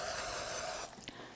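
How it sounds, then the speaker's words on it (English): Cooking spray hisses from an aerosol can onto a baking pan, a close, steady spray lasting under a second, then stopping with a small clink. "so definitely spray your baking pan"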